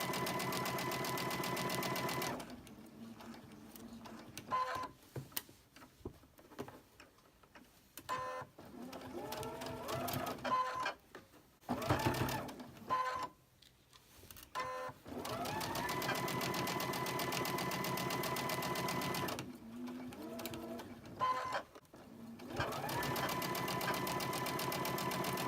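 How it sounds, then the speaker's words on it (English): A sewing machine stitches cotton fabric in long runs of fast, steady mechanical whirring and clatter, broken by pauses with small handling noises and brief quiet talk before the motor starts up again. "we're going to go ahead and sew this"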